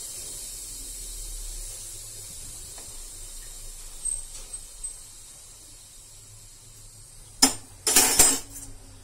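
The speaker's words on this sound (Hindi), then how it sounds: "चलो अब कुकर खोलते हैं।" A home pressure cooker that has just cooked veg pulao is opened, with a faint steady hiss under low kitchen noise, a few soft clinks, then a sharp burst of steam and metallic clatter near the end.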